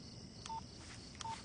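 Two short, steady telephone keypad dialing tones sound about three quarters of a second apart, faint over a quiet hiss, with no talking.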